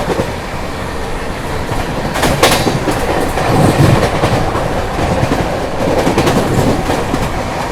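Bihar Sampark Kranti Express running on rails, a steady loud rumble of wheels and carriages with rhythmic clickety-clack heard from inside the train throughout.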